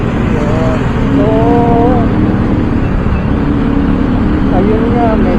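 A motorcycle cruises along the road at speed, its engine droning steadily under wind rush close to the rider while someone talks over the ride.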